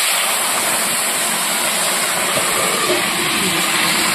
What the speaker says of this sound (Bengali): এবার আমি নিরামিষটা ঢেলে দেবো।